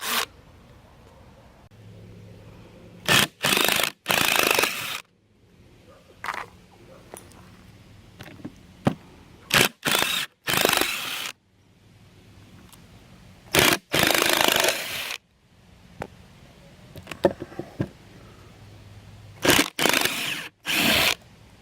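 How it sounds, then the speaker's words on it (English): Screws being taken out of a salvaged piece of junk for a homemade bike rig, heard as a series of short, loud whirring or ratcheting bursts with quiet gaps between them and no talking. "I'm going to be taking the screws out of this thing"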